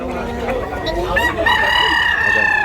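A white rooster crows loudly nearby, one drawn-out cock-a-doodle-doo, with faint clucking and background chatter beneath.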